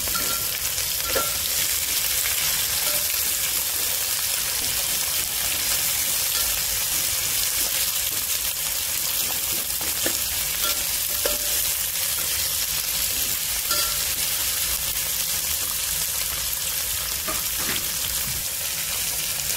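Onion and green chillies sauté in a pan for a masala rice dish, giving a dense, unbroken frying sizzle with occasional faint stirring clicks, steady and close throughout; no voices.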